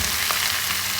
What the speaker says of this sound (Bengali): সবজিগুলো ভালোভাবে একটু কষিয়ে নিচ্ছি